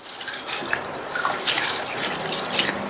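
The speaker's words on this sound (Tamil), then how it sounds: "இதில் தண்ணி சேர்த்து நல்லா வாஷ் பண்ணிக்கலாம். இந்த மாதிரி தேய்ச்சி தேய்ச்சி வாஷ் பண்ணிக்கங்க" Sago pearls are rubbed and washed by hand in a bowl of water, giving continuous close sloshing, trickling and splashing with small drips and no talking.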